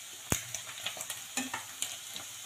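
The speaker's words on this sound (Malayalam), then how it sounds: "നമുക്ക് ആദ്യം ഈ വെജിറ്റേറിയൻ ബൈറ്റ്സിനെ ഒന്ന് എണ്ണയിലിട്ട് ഫ്രൈ ചെയ്ത് ജസ്റ്റ് ഒന്ന് ഫ്രൈ" Vegetarian bytz chunks fry in oil with a quiet, steady sizzle, broken by a sharp tap and a series of light clinks and scrapes from a utensil, heard up close at low volume.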